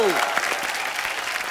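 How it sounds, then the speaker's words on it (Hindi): Loud, dense applause from a TV studio audience on The Kapil Sharma Show fills the whole moment, steady clapping with a brief voice at the very start. "जोरदार तालियां हो जाएं"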